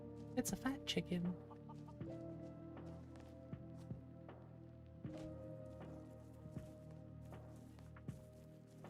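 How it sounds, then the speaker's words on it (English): A chicken clucks in a quick burst of a few calls near the start, followed by quieter scratching and light taps, with faint voices in the background. "It's a fat chicken."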